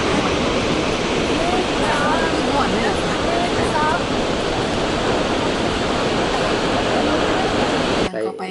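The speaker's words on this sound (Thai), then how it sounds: "มาถึงแล้วน้ำตกตาดฟ้าน" Tad Fane waterfall near Pakxong in Champasak, southern Laos, sends up a loud, unbroken roar of rushing water that fills the whole scene, with faint voices drifting beneath it.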